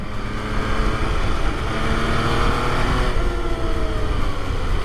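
A 2020 MV Agusta motorcycle being ridden at a dealership open day, its engine a steady, loud droning rumble with strong low harmonics holding a fairly even pitch throughout, no voices over it.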